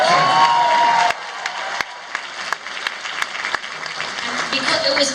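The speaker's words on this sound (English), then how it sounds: "You can applaud tap dancing." Convention panel audience at a FanExpo clapping for a tap-dancing mention, a brief burst of applause that drops off quickly into scattered claps, laughter and talk.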